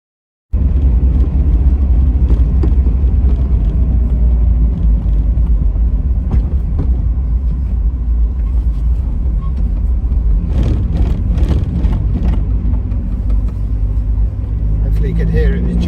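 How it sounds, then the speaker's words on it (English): A 1991 Mazda MX5 with a Kaaz plate limited slip differential set to full lock drives along with a loud, close, steady engine drone. A few sharp clunks and knocks come in toward the end. "You could hear it was jumping around then and there."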